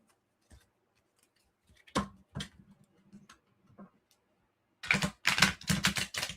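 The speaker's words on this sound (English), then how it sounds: "Let's shuffle this one more time." Scattered soft clicks and taps, then a quick flurry of crisp flapping snaps as a tarot deck is shuffled up close.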